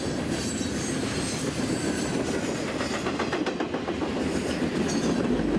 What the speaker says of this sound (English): This type of freight train will weigh an average of 12 million pounds.